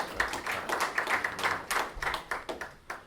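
Audience applause at a Puerto Rican community summit in New England, a modest round of clapping with distinct, fairly sparse hand claps in an uneven rhythm, moderately loud and close, with no talking over it.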